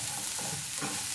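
Bitter gourd stir fry with salt and turmeric being mixed in a hot pan, a brief steady sizzle and soft stirring rustle, close and quiet.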